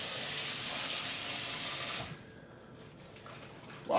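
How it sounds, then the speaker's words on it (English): Green beans are washed under cold running water at a kitchen sink: a loud, steady tap rush for about two seconds, then it cuts off to quiet drips and handling, with a brief splash at the end. "Wash them all in cold water."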